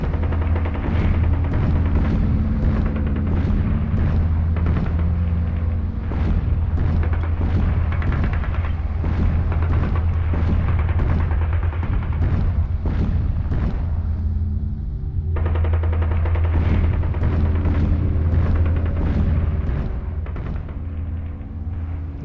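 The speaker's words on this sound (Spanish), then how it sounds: "Ya se divisan desde el Alcázar las explosiones de los cañones de los nacionales" Artillery cannon fire in the Battle of Toledo during the Spanish Civil War sounds as a continuous rumble of booms and crackling blasts with a deep, steady low drone underneath, loud and unbroken.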